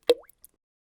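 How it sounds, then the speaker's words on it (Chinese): A passage from Bartók's Night Music played as a single soft plop like a pebble dropping into water, followed by a couple of faint ticks, then silence. "我觉得像是小石头掉到水里溅起水花的声音"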